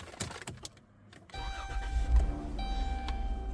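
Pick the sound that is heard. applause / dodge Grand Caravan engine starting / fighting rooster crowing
dodge Grand Caravan engine starting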